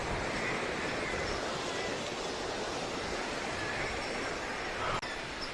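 Water rushes through an opened sluice gate at Kodiveri dam, a steady broadband roar that stays loud and constant throughout with no voices.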